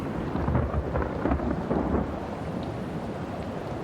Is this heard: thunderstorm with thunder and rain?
yes